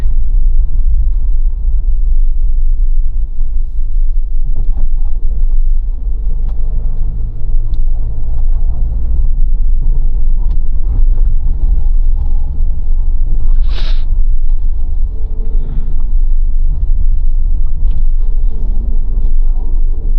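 A 2024 Mahindra Thar RWD LX hardtop with a manual gearbox drives in 4th gear on small roads. A steady, close engine and road rumble runs throughout, with one brief sharp click partway through.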